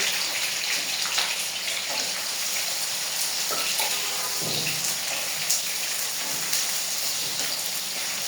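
Chopped onion sizzles in hot oil with bay leaf, cardamom and cinnamon, a steady broadband frying crackle with a few louder pops and spits, close and continuous throughout.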